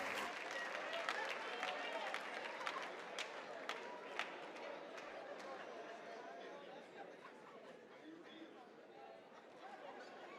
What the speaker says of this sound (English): Start clapping now